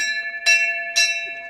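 Temple bell rung twice at the entrance gate of the Aadi Himani Chamunda shrine, two bright metallic strikes about half a second apart, each leaving a long sustained ringing hum.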